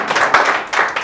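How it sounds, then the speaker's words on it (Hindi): Audience clapping, a short burst of hand claps in two quick swells, close and fairly loud, lasting about a second. "एक बार तालियां बजा दीजिए उसे इरफान साहब के लिए"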